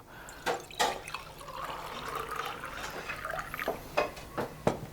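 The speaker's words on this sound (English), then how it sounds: "we're just gonna fill it up with water up until it's right underneath this little percolator right there" Water poured into a coffee maker's reservoir up to just below the percolator basket, a soft continuous trickle and splash with a few louder knocks and clinks of handling along the way.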